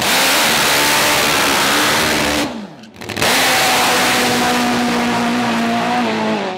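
Loud roaring drag racing engines on a drag strip rev hard, drop away briefly, then surge back into a sustained high-pitched scream, racing vehicles close by.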